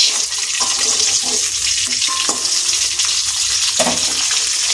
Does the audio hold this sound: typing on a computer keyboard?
no